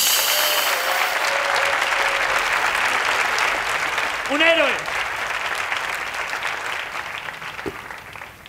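Applause fills a roast battle comedy show, a dense crowd clapping steadily and gradually tapering off, with a brief whoop and scattered voices from the audience.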